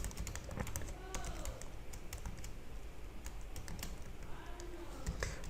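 PHP code being typed on a computer keyboard, rapid irregular key clicks in quick bursts with short pauses, close and fairly quiet, alone without talk.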